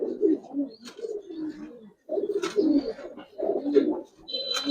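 Soft cooing of a Giribaz pigeon in a loft, low throaty coos in several short phrases, close by, with faint chirps and rustling between them.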